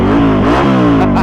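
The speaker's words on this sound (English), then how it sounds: "Rev that thing up. That thing just sounds good." A Ducati Scrambler motorcycle engine revving hard and close, the pitch climbing and dipping in quick throttle blips over a loud, steady rumble.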